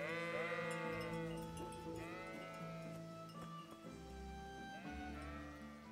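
Several sheep bleat in wavering cries in Kingdom Come: Deliverance, one after another, fairly close, over a low background hum.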